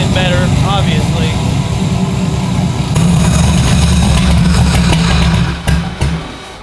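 A turbocharged Chevrolet Nova running on ethanol idles with a steady, loud, slightly lumpy rumble, leaned out after running rich, with a brief engine surge near the end.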